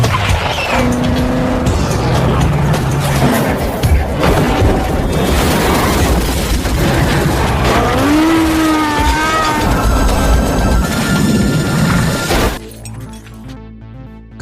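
Loud, chaotic action-film chase scene as a man flees by motorcycle, with revving engines, squealing tires, crashes and breaking sounds layered over music before an abrupt drop near the end.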